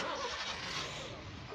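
A vehicle engine runs steadily on a narrow mountain road near Gaurikund, a broad continuous rumble close by that eases slightly toward the end.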